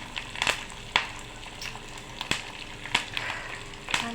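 Cumin and mustard seeds sizzle and crackle in hot oil for a tempering, a soft steady fry broken by sharp popping bursts at irregular intervals, close by with no talk.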